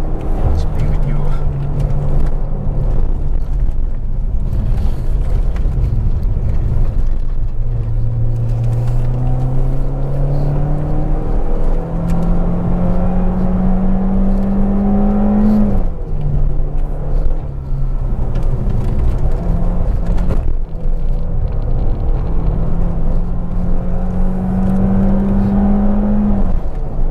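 A 2010 Peugeot RCZ automatic climbs a misty, wet hill road, its engine note rising steadily and dropping sharply at each upshift, several gear changes in a row, loud and close from inside the cabin.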